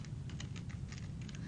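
Steady computer keyboard typing, a quick run of close, light key clicks in an even patter with no voices.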